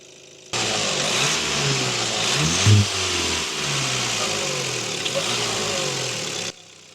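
A Maxus T-60 pickup's engine while driving on a rough road, a steady mid-pitched drone heard from inside with a brief rev swell partway through, fairly loud throughout.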